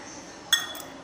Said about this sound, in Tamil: ஃபஸ்ட்டு நம்ம ஒரு கப் கோதுமை ரவையை ஒரு பாத்திரத்தில் சேர்த்துடலாம்